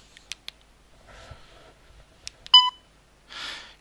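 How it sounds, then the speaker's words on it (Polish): A DAISY book player device gives a short, bright electronic beep after a few soft clicks and button taps, followed by a brief burst of hiss; the sounds are close and isolated, with no talking. "I piknięcie oznacza, że to już jest całość zawartości zewnętrznej pamięci."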